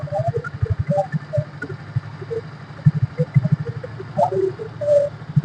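A car engine runs at idle, a low rhythmic putter pulsing steadily up close, with scattered clicks and faint background sounds over it.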